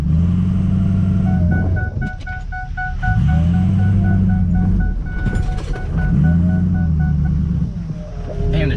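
A big tuned truck driving and rolling coal, its deep engine drone surging and easing in repeated waves, loud and close, with a whining tone above and a voice talking briefly over it.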